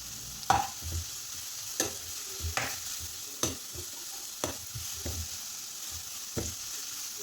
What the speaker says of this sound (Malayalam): ഒരു വലിയ തക്കാളിയാണ് ചെറുതായി കട്ട് ചെയ്തത്, അതുകൂടി ഇട്ട് കൊടുത്ത് നമുക്ക് ഇളക്കി കൊടുക്കാം